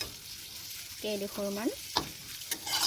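Onions fry in a pan for home-made mutton korma, with a faint, soft crackling sizzle, a few stirring clicks and a brief voice speaking over it.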